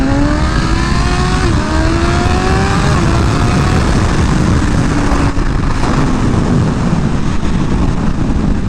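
Loud BMW S1000RR sport motorcycle engine under way, rising and falling revs with smooth upward pitch sweeps as it accelerates through gears, steady wind rush throughout.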